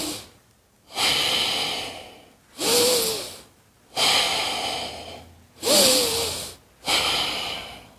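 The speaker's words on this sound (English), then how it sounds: "If you're breathing through your nose," Slow nasal breathing during a home breathwork practice, with four or five full inhale and exhale cycles in a steady rhythm, close and fairly loud, with no talking.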